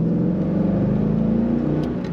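A 2003 Chevrolet Corvette 50th Anniversary convertible with a 6-speed manual accelerating hard, its engine giving a loud, close, steady rumbling drone that climbs slightly in pitch over a couple of seconds.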